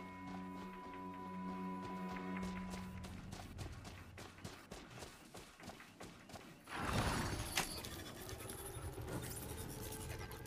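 Horse hooves clip-clop at a gallop in the video game Horizon Zero Dawn, a quick rhythmic run of thuds that stays steady and close, then a louder rushing burst as the ride goes downhill.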